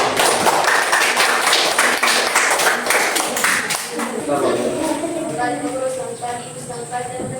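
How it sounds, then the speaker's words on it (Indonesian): A classroom audience of students and teachers claps hands at the close of a group presentation during an academic coaching session, steady dense clapping for about four seconds that fades into murmured voices and room chatter. "Tepuk tangan."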